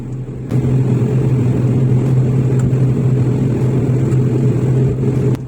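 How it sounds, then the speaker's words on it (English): A Cebu Pacific ATR 72 turboprop engine runs while the plane taxis. Heard from a seat beside engine number 1, it makes a loud, steady droning rumble with a constant low hum that starts abruptly and holds with no voices. "I hear the startup of engine number 1, which I'm sitting beside it. Shortly after, we started our taxi onto the runway."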